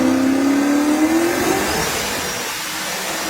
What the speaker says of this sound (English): This is his green race car on the hoist.